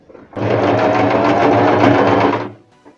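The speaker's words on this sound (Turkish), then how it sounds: "Şimdi buradan normal dikiyorum arkadaşlar." A sewing machine runs a plain straight seam on a hood, starting after a brief pause and holding a steady, close, loud whir for about two seconds before stopping, with no talking.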